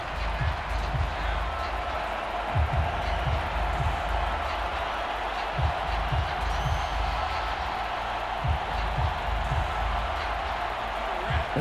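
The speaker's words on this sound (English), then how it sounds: "Crowd on their feet." Football stadium crowd at an NFL game between the Jacksonville Jaguars and Indianapolis Colts, a dense continuous roar of cheering with low thumps scattered throughout, steady and distant-sounding.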